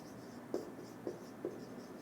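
Chalk tapping and scratching on a board as chemical names are written, three short distinct strokes with soft scraping between, fairly faint and close.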